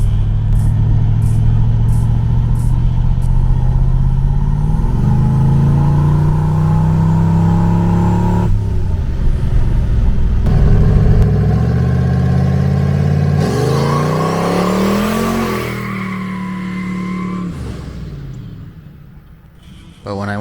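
A turbocharged Ford Fairmont no-prep drag car revs and accelerates through gears on a test pass, a loud, close engine roar rising and falling in pitch with clattery bursts and a brief lull near the end.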